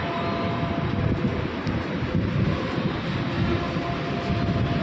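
Local metro train in Hyderabad rumbling past with a steady, dense roar of wheels and wagons, loud and close throughout with some wind noise.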